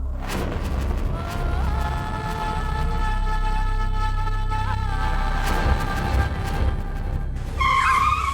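A car driven fast gives a loud, sustained tire squeal with wavering tonal screeches over a deep engine rumble, ending in a sharper squeal burst.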